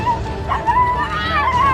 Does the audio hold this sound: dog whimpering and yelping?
yes